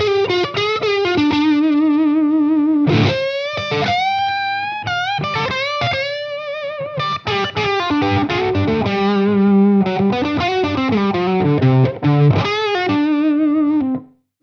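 Electric guitar playing a generic pure rock tone through an effects unit, distorted and chorus-tinged, with sustained bent notes and quick phrases, loud and close throughout and no voices.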